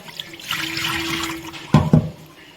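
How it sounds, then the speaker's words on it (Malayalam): Fresh coriander leaves are rinsed in water in a home kitchen: running and splashing water plays softly, then two short, louder sloshes come near the end, with no talk. "ഇതൊന്ന് കഴുകിയിട്ട് വരാം മൂന്നാല് വട്ടം കഴുകണം"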